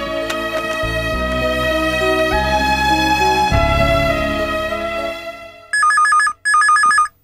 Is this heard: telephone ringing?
yes